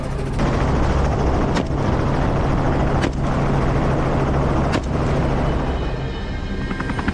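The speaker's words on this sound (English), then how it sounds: "Hunting wild boars by helicopter is both thrilling and demanding" Helicopter flying overhead during a wild boar hunt on Georgia farmland, a loud, steady rotor and engine roar filling the whole stretch, with a few sharp cracks cutting through it.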